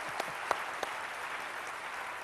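An audience applauding at a stage event, a short burst of claps, a few sharper near the start, fading into a low steady patter.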